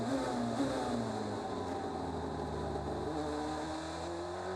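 A DTM race car rolls slowly out of the pit lane toward the grid on cold new tires, its engine a steady low drone with a slight pitch shift, fairly distant and without talk.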